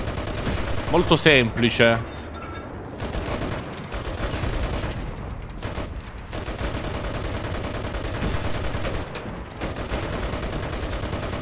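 Machine gun fire in the Enlisted video game during a D-Day beach assault, steady rattling bursts running almost throughout under battle noise, with someone talking briefly near the start.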